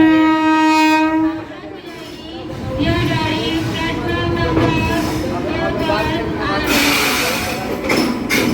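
Amrapali Express train pulling in at a platform of Gorakhpur station, opening with a loud sustained horn blast that gives way to rumbling wheels and rail noise, with a busy station hubbub around it.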